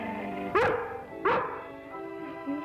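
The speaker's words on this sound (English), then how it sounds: "Looks like she's barking at something back there." A dog gives two sharp, close barks about a second apart, followed by a softer whine.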